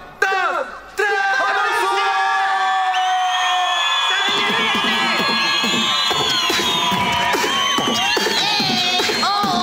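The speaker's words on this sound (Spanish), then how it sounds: "¡A la cuenta de tres, gritos, silbido y escándalo! ¡Se aplaude fuerte!" A live comedy crowd breaks into loud shouting, whoops, whistles and cheering after a brief lull, the noise swelling into a sustained, raucous roar that holds to the end.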